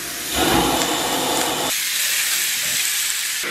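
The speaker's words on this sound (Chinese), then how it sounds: "首先咱们把五花给它下到锅中" Pork belly cubes hit a hot wok and stir-fry with a loud, steady hiss and sizzle that flares up suddenly, then settles into continuous frying noise.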